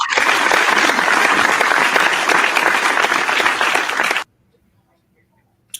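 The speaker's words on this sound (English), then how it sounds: "I'll give Mike a little audience applause there." A studio audience applauds on a beer-sharing talk show, with loud, steady, dense clapping for about four seconds that then cuts off abruptly into silence.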